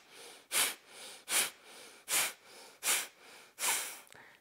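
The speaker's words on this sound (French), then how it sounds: "J'inspire." Deep yoga breaths during a seated twist practice, six long rhythmic inhales and exhales spaced about every 0.7 seconds, close and breathy with no talking.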